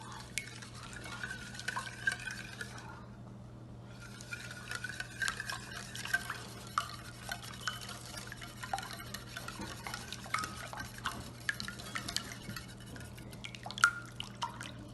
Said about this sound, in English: Mix everything together.